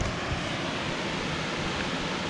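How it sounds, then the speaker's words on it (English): Waterfall near Guadalupe, Colombia, with a good-sized drop, heard as a steady, loud broadband roar of falling water close by, unbroken and without voices. "in actuality it's a pretty good sized waterfall with a pretty good drop"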